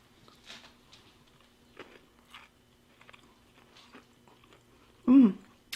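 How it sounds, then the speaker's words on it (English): Someone bites into homemade bread pudding with a crunchy top and soft, moist middle, giving faint close chewing and crunching sounds, with one louder crunch near the end and no talk. "So we're going to take a bite and see how it tastes."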